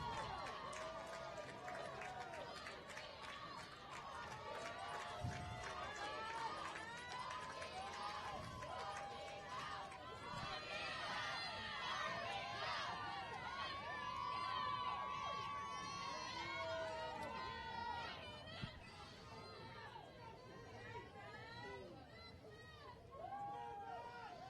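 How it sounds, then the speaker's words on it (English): Spectators yell and cheer from the bank at the Head of the Charles rowing regatta. Many voices shout at once in a sustained, moderately distant din as the crews race past. "that's why you hear all the yelling, if you can hear that"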